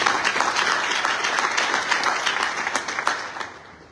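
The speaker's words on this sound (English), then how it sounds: "can we all give him a hand of applause?" An audience at a political rally gives a leader a hand of applause, a dense round of clapping with distinct claps popping through, fading out at the end.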